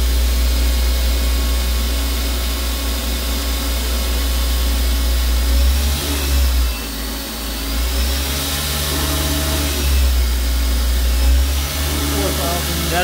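Hardinge GT 27SP super-precision CNC gang tool lathe spindle running at high RPM, around 4,400, a steady close-range machine whine and hum with a slight rise and fall, under a voice.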